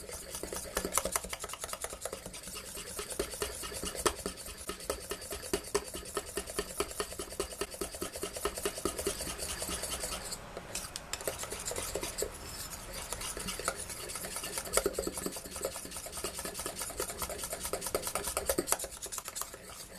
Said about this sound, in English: we want to mix the butter with the batter, and to do that, we have to whisk it very fast